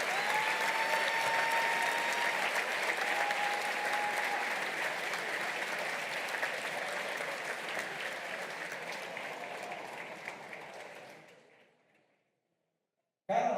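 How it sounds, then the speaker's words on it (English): Sustained applause from a large audience at a university graduation ceremony, steady and loud for about eleven seconds before fading out into silence. "Big round of applause for these extraordinary young people."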